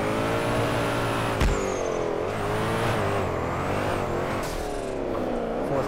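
A drift car in the DRIFT21 racing game screams at high revs, its engine tone dipping and climbing through gear shifts, with a sharp pop at one change, loud and continuous throughout.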